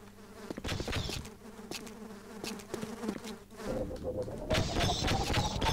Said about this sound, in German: Ich höre die Wespen die ganze Zeit hier nur.